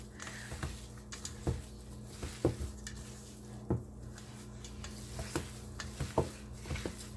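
Yuca alcapurria and empanada filling stirred in a bowl, heard as soft, repeated squishy strokes and light scrapes in a fairly regular rhythm, close and quiet.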